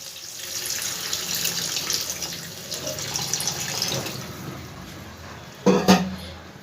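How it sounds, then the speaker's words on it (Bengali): Water is poured into a pot of rohu fish curry with ridge gourd and potato, a steady close splashing pour with a louder sharp splash near the end, no talking. "এবার আমি জল দিয়ে দেবো মশলা করে রাখা ধোয়া যে জলটা ওইটা আমি দিয়ে দিলাম"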